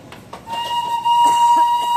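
The Darjeeling toy train passes close by, its steady whistle-like tone sounding continuously over clattering, rumbling movement.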